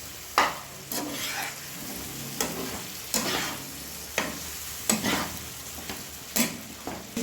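Spices mixed with salt and sugar for an egg butter malaikari are stirred in a pan, with rhythmic scraping strokes about once a second over a steady close sizzle.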